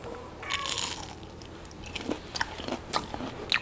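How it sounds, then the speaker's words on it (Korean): Crisp bites into breadcrumb-fried cuttlefish dipped in thick tteokbokki sauce, a few sharp crunches followed by close chewing, with no talk. "바로 갑오징어 튀김에 떡볶이 국물 딱 찍어가."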